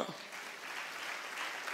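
A church congregation applauding volunteers, a dense, even wash of many hands clapping that carries on for about two seconds, heard at moderate distance.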